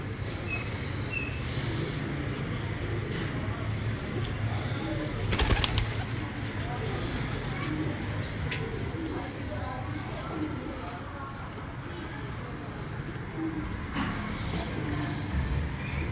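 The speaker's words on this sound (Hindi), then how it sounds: "ये माशाल्लाह उस्ताद अशरफ भट्टी साहब के मेन ब्रीडर टैडी कबूतर" Teddy breeder pigeons coo softly in a loft, low murmuring calls scattered over a steady background hum, with a brief louder rustle partway through.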